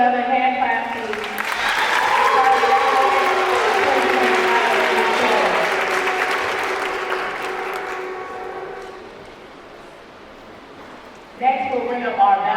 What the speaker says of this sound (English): Let's give another hand clap,